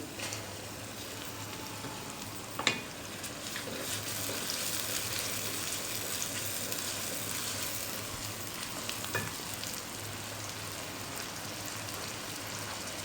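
Garlic-ginger paste hits golden-brown fried onions in a pan, a steady, moderately loud sizzle like light rain that runs on evenly, with a sharp clink near the start and another later.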